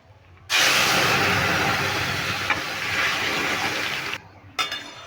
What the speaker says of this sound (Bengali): এখন আমি ডালটাকে ঢেলে দিচ্ছি